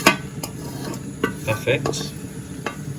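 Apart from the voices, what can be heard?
stirring spaghetti in a pan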